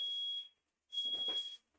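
A kitchen smoke alarm gives two shrill, steady high-pitched beeps, each about half a second long and separated by a brief silence, with faint clatter beneath the second.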